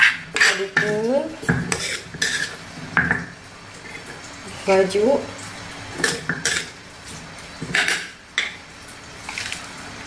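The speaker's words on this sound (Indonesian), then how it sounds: "adukun" A spoon stirs karedok leunca, a raw vegetable salad with squeezed lime, in a bowl, clinking and scraping in close irregular bursts while a voice talks intermittently.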